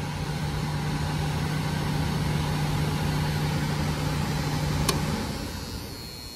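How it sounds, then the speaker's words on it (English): A transformer in a Goodman package heating and air unit gives off a steady loud electrical hum, continuous and close, with a low mechanical drone beneath and a brief click near the end. "that transformer sure is loud"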